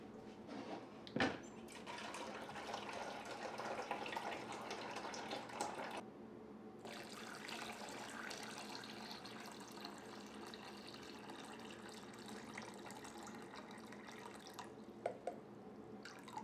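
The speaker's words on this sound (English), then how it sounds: "And now let's go ahead and add our water." Water poured into a container for refrigerator pickle brine, a continuous soft splashing and trickling stream with a brief break partway through, heard alone and fairly quiet.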